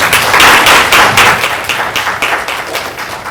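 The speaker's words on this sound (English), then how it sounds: "Can we give a round of applause to all of our speakers?" Audience clapping at a #UniteNC town hall meeting in Rocky Mount, North Carolina, a loud, close burst of fairly sparse clapping with distinct pulsing claps that fade somewhat over a few seconds.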